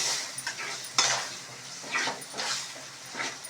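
Salt and chili powder being stirred into boiled gongura leaves in a pot, a series of soft scraping and scooping strokes with a brief clink of utensil against the vessel, fairly close and unaccompanied by talk.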